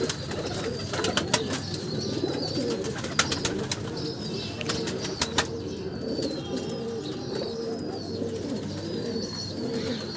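Golden breeder pigeons coo continuously in a dense, low murmur with occasional sharp wing flaps and clicks, several birds close by with no one talking.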